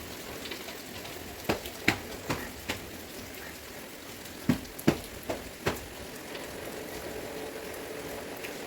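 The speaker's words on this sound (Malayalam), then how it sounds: "ഇപ്പോഴും മഴയുണ്ട്." Rain falls steadily outside as a soft, even patter, with several sharper drips and taps landing near the mic over a quiet background.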